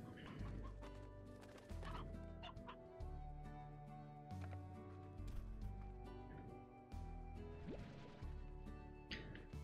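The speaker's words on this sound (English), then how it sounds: "I think we will get rid of a rooster." Roosters in the Slime Rancher video game cluck in repeated short bursts over steady background game music, with no talking.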